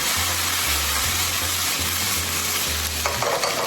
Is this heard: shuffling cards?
no